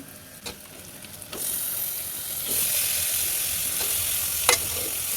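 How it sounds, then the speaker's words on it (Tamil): Washed beef pieces tipped into a hot pan for beef sukka, setting off a strong sizzle and frying hiss that rises after the first second and holds steady, with a couple of sharp scrapes or stirs in between. "நான் இறச்சி கழுவி வச்சுருக்கேன் அதை இதில் சேர்த்துப்போம்"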